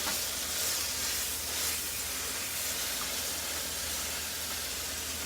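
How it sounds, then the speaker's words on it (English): Continuous bright hiss of food sizzling in hot oil in a pan, steady and close, with no voices. "Sizzling nicely. Put my little oil in it"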